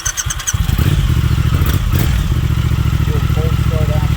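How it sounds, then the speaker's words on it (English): A fuel-injected 2020 Triumph Thruxton TFC motorcycle engine cranks and cold-starts, then settles into a steady, loud idle with a rapid rhythmic thrum and some mechanical clatter. "what I'm going to do here in a moment is fire this thing up"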